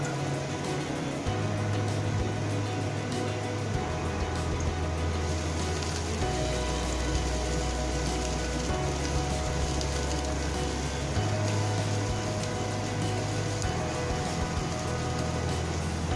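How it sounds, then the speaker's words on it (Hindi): Onions sautéing in two tablespoons of oil in a saucepan give a steady, even sizzle that hisses continuously throughout, with a low hum underneath. "और प्याज को सौटे करना है।"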